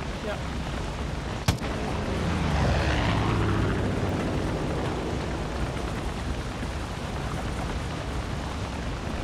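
Seaplane in the game Far Cry 5 roaring past and touching down, a loud broadband engine and wind rush swelling after a sharp thump, then a steady drone through to the end.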